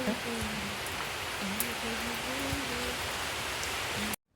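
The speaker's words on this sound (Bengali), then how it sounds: "এই যে বৃষ্টির একটা আওয়াজ আর সাথে নিচে পড়ার টুপটাপ শব্দ" Steady rain falls with a soft continuous hiss, and faint drips land underneath it before the sound cuts off abruptly.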